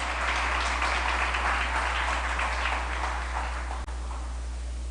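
An audience at a live-streamed event gives a round of applause, a steady, moderate wash of clapping lasting several seconds over a constant low electrical hum.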